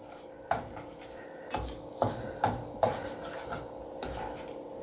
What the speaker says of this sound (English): I'm just going to stir it around here